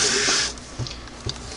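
A Singer Model 99K sewing machine runs with a slipping belt, giving a bright whirring burst at first, then a few soft uneven thumps as the motor labors, close and without talk.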